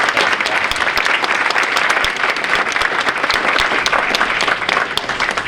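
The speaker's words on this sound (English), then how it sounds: "So if you could all just give him a round of applause before we continue." Audience applause at a fall varsity sports awards ceremony, dense and loud clapping from a crowd with no talk over it.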